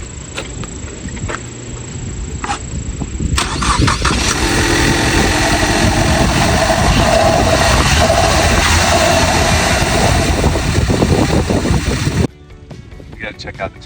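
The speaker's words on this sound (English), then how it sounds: "Give it some revs." A barn-find Ford Mustang with a check engine light on idles, then is revved loud and rough for several seconds before dropping back. People talk nearby under the engine noise.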